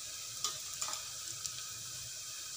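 Onions fry on high flame with a steady, even sizzle while a spoon stirs them, giving a few light scraping taps against the pan.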